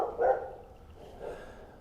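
Dogs nearby on a horse-training property give a short bark, then a fainter second one after a brief pause, moderately close and without talk.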